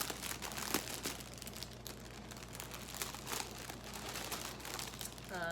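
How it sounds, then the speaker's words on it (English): Plastic packaging around a yarn mini skein set crinkles and rustles continuously up close, a steady crackling handling sound with no voices. "sorry for the crinkling"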